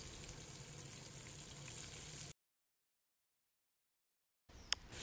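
Marinated chicken wings fry in a pan of oil with ginger slices and shredded onion, giving a steady, quiet sizzle that cuts off to silence and then returns with a brief clink.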